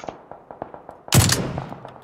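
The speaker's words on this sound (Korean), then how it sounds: "총소리 난다." Gunfire in the battle royale game PUBG: a string of evenly spaced single shots, followed by a louder, sharper burst that rings out and decays.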